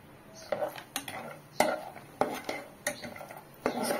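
Cashews and almonds being roasted in ghee over a medium flame, with a spoon clinking and scraping against the pan in short, irregular knocks over a faint low background.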